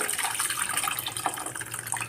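Water streams steadily into a cooking pot of fish curry, a continuous close splashing gush with no pauses for about two seconds.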